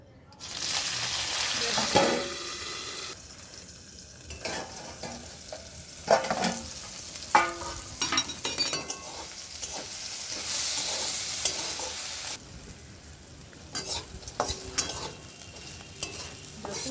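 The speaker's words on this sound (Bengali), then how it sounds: "করলাটা দেখো লাল লাল করে ভাজা হয়ে গেছে।" Loud sizzling of bitter gourd frying in a hot pan, swelling and easing as it is stirred, with sharp crackles and spatula scrapes scattered throughout.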